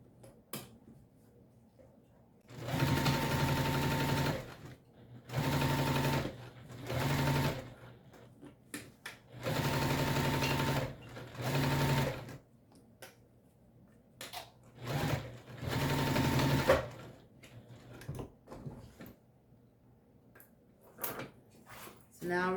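A sewing machine stitches a bag in repeated runs of steady mechanical whirring, each lasting a few seconds, separated by short pauses with faint handling clicks, close and prominent.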